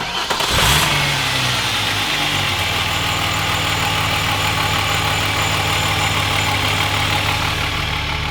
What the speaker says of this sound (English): when he turned the engine on and it sounded like this